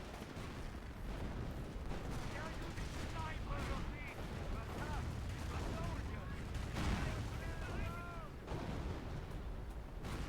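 Battle sounds from the video game Company of Heroes, dense continuous gunfire and explosions rumbling at a distance with bursts layered over one another for the whole stretch.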